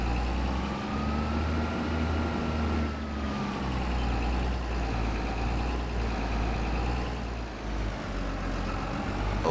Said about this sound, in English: you can hear the engine throttle up as it reaches maximum speed